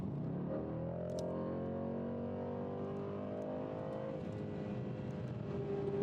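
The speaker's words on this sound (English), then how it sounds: "I got the burble bang tune, so it pops every time I rev the engine." Car engine fitted with a burble bang tune and loud exhaust, revving and then easing off with a steady harmonic drone heard from inside the cabin, moderately quiet, with a few faint crackles.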